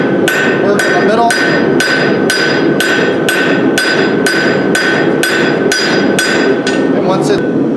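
A blacksmith's hammer strikes hot stock while forging a ball-ended leaf hook, ringing blows landing in a steady, evenly spaced rhythm of about two per second, close and loud with no talk.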